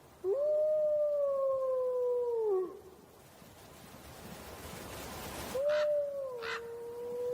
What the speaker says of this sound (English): A new howl rings out through the mists.